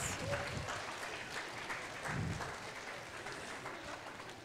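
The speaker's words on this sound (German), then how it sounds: "Ja, das war euer Applaus." At a children's university lecture on robots, an audience applauds with steady, moderately loud clapping that swells briefly around the middle and carries on without pause. Faint voices are heard underneath.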